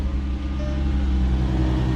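A Volvo V70R's engine cold-starts, settling into a steady, loud, low rumbling idle that stays close and even with no talk over it.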